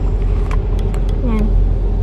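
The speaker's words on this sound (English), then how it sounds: "Traffic." Road traffic in Palapala on a rainy day, with a steady low rumble of car engines heard from inside a vehicle stuck in a jam, brief faint tones flickering over the constant drone.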